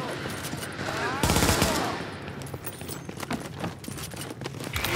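A turret machine gun in The Division fires in a rapid, rattling stream amid busy combat noise, with a heavier burst near the start and continuous clatter after, loud and close.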